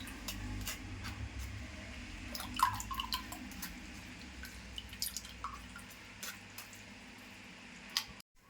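Guava and pomegranate juice strained through a sieve, with soft intermittent drips and wet squishing of pulp and seeds, quiet and close with no voices.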